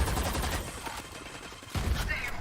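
A battle in the video game Valorant brings rapid gunfire bursts under a dense, noisy wash of game sound, with a louder sharp burst near the end, steady and fairly close.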